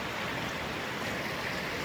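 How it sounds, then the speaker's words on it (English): Storm-swollen river water surging through the gin pool at Bigwell after Storm Chandra, a loud, steady broadband roar of rushing torrent that continues without a break and has no talk over it. "There's the gin pool, belting the water through, full to maximum, absolutely running the water through"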